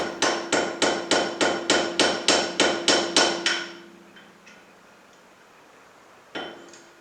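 Knuckle bearing races from a Land Cruiser 79 swivel hub are driven out with a screwdriver struck by a hammer: about a dozen sharp, evenly spaced metallic blows, then a pause and one last isolated strike.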